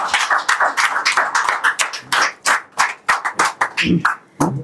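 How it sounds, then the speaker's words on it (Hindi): Loud, close hand clapping from an audience at a gathering on dowry and women's respect, sharp separate claps in an uneven, fairly quick rhythm, with some voice mixed in near the end. "मैं चाहता हूँ एक बार जोरदार तालियां पूरे धर्म के लिए बजाएं"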